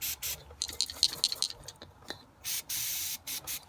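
Bursts of spray from a squirt bottle shooting fuel into the open carburetor of a 2011 Yamaha TTR110E dirt bike, several short hissing squirts close up, with quieter scraping and handling sounds between them.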